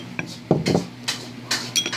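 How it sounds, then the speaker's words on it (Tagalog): A spoon scrapes and clinks against a bowl as cornstarch is stirred into half a cup of water, several quick clatters in bursts, fairly close and moderately loud, with no talking. "haluin lang natin hanggang matunaw po yung cornstarch"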